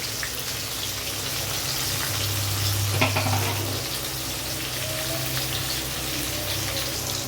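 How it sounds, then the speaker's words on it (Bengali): Chopped onions and a bay leaf frying in hot oil, a steady close sizzle running throughout with a brief louder spatter partway, no talking. "এবারে দেখো, দিয়ে দিলাম তেলের মধ্যে তেজপাতা ফোড়ন। এবারে দিয়ে দেবো একে একে পেঁয়াজ কুচি।"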